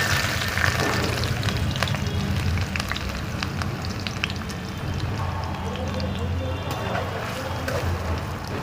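Chopped onions frying in a pan for egg fried rice give off a loud, continuous hissing sizzle that stays close and even throughout.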